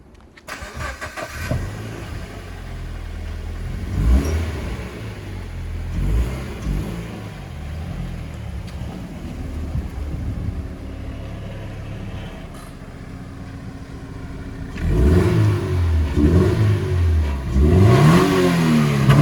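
A 2012 Toyota GT86 engine with a TRD exhaust cranks and starts, then idles roughly before several sharp revs rise and fall near the end, loud and close.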